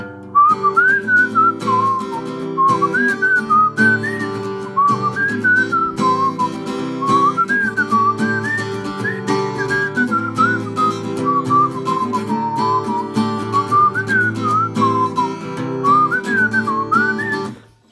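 A person whistles the melody of a song over strummed acoustic guitar chords, the bright whistled tune loud and clear throughout, running continuously in phrases for the full length with no talking.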